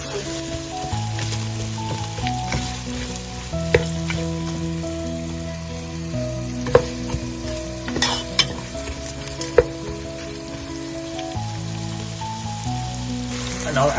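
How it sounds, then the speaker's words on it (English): Sweet chilies and onion frying in a pot for Telugu-style fried chicken biryani give a steady, close sizzle with occasional stirring clinks, under background music. "After shallow frying for couple of minutes, add the sweet chilies and then onion."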